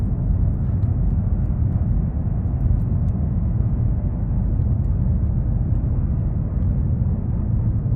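A rocket engine throttles up in Kerbal Space Program, a loud, steady low roar that rumbles continuously without breaks, with no talking over it.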